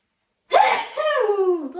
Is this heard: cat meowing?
no